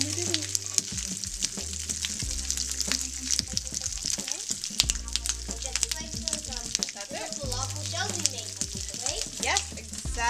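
Lamb chops for a masala dish browning in a pan after pressure cooking, a continuous close sizzle and spatter with occasional stirring scrapes and clinks, voices talking over it at times.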